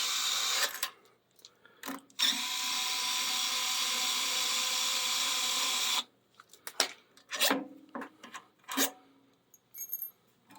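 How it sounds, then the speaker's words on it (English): A power driver whirs steadily for several seconds while backing screws out of a Carrier furnace blower motor assembly, followed by shorter bursts, clicks and handling noises, close and moderately loud. "if you want to ohm out the motor and see if it's just the module's bad, you take off these 2 screws"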